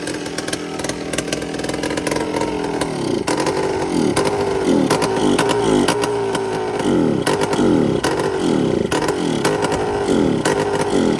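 A Yamaha Blaster ATV engine runs steadily at close range, its loud buzzing two-stroke idle sputtering and pulsing throughout with rough, uneven surges and no talk over it.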